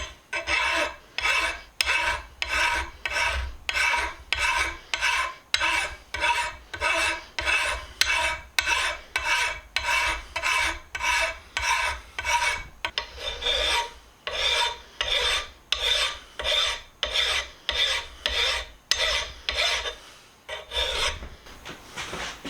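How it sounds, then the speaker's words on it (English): A hand file rasps across a Bonney vise being restored, held in a bench vise, in steady back-and-forth strokes of about one per second, loud and close with no talking. "So let me throw this in the vise and we'll start filing on it."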